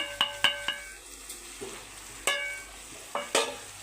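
A utensil scraping and knocking against a pan while salt, turmeric, garam masala and chili are stirred in, several distinct metallic clinks and scrapes in irregular bursts over a faint low sizzle.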